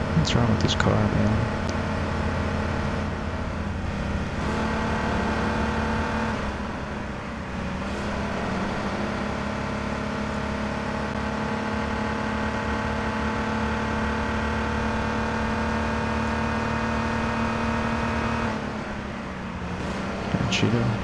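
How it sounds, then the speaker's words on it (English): A car engine in the H1Z1 King of the Kill battle royale game drones and revs continuously with a steady mid-pitched hum, while someone talks over it. "What's wrong with this car, man?"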